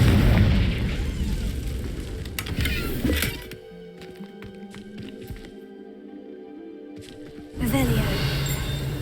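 A Confringo fire spell going off in Hogwarts Legacy: a loud, dense booming blast that drops into quiet crackling and ringing debris, then surges back with rumbling noise near the end.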